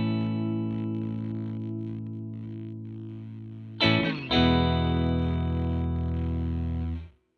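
A MoogerFooger plugin effect rings out as a sustained, distorted harmonic drone, breaks into a brief glitchy burst near the middle, then swells again and holds before fading away in a slow dying tail.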